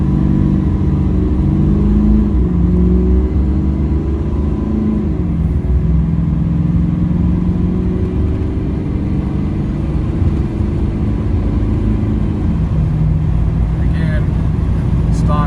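Chevrolet LBZ Duramax diesel truck accelerating hard on a cold 39-degree day, a loud continuous engine roar with rising pitch that fills the whole stretch, with a voice talking over it.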